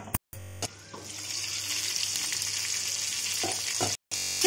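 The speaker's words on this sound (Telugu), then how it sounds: "అన్నీ తిప్పుకొని ఒక 2 మినిట్స్ వరకు మూత పెట్టుకొని ఫ్రై చేసుకోవాలి" Capsicum masala fries in oil in a pan, a dense hissing sizzle in between brief bursts of louder rushing noise and short silent gaps.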